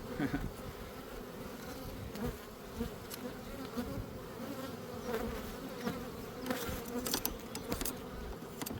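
Bees swarming close around a beehive during a summer hive check, a dense buzzing drone that stays steady throughout with occasional louder passes near the listener and no talking.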